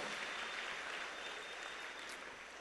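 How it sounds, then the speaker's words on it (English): A chapel audience of students, faculty and staff applauds steadily and fairly loudly. The dense, even clapping holds without a break and with no voices over it. "Students, let's give them a round of applause for being with us this morning."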